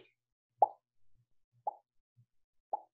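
Three short, crisp pops sound in a row, evenly spaced about a second apart, each a quick bright plop from a cartoon-style animation effect, with nothing else heard between them.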